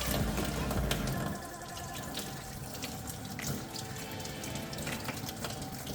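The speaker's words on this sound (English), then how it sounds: "apply a little hot water here. That helps clean it out." Hot tap water runs steadily over a PCV valve from a 2015-2016 Honda CR-V 2.4-liter engine, a hissing splash, louder at first and then continuing at an even level throughout.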